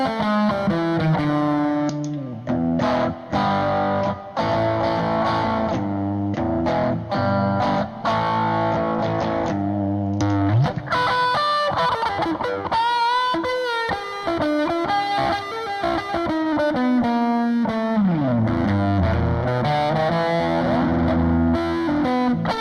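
Electric guitar lead runs through an Electric Princess Overdrive pedal, distorted sustained notes and bends riding over a backing layer, loud and continuous for the whole stretch.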